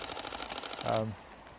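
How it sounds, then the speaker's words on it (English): Erratic shutter of a malfunctioning Canon Mark III camera showing error 20 on a wet Welsh landscape shoot, a rapid burst of mechanical clicks and buzzing close to the microphone that stops abruptly. "It's doing some crazy shutter thing and coming up with error 20"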